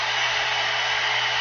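A 2-in-1 hot air brush blowing, a steady close whooshing hiss with no breaks.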